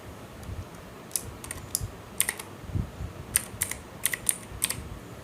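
A name being typed on a computer keyboard while setting up Windows on a new PC: scattered bursts of crisp key clicks at close range, sometimes in quick runs, over a quiet room with no talk.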